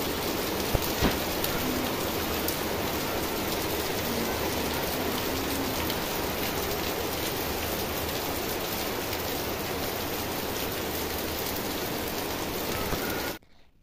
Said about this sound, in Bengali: দেখতেই পেলে কত বৃষ্টি হচ্ছে, কত জোরে জোরে